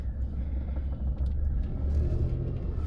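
A Suzuki Alto K10 engine runs under a hand-operated accelerator fitted in place of the pedal, giving a loud, steady low rumble close by for about three seconds with no clear revving surge and no talk.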